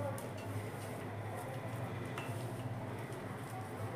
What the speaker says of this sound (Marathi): आता सगळे घातल्यावर हाताने चांगलं मिक्स करून घ्यायचे